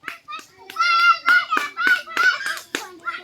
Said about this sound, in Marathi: हा टाळ्या वाजा